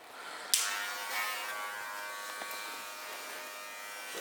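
Andis Master hair clippers run with a steady electric buzz during a skin fade haircut, starting abruptly, close and continuous at moderate loudness, with no talking.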